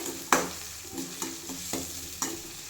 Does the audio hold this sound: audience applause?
no